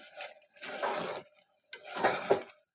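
A spoon stirs coriander through curry in a pan. Two separate bursts of scraping and soft clinking sound close by against a quiet background, with no talk.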